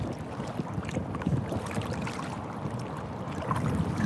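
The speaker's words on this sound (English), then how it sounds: "as you can see, I'm in really windy conditions" Wind buffets a Wilderness Systems Tarpon kayak out on open water with big waves and white caps, a steady rumbling gust noise with splashing water close to the microphone, continuous throughout.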